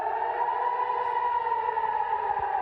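Air raid siren wailing over Jerusalem during an attack, a steady sustained tone that holds loud and unbroken for the whole stretch, with no voices over it.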